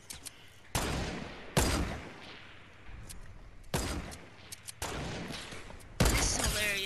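Sniper gunfire in the Fortnite video game: several sharp, loud shots with short tails ring out at irregular intervals, roughly five or six in all, over a quiet in-game background.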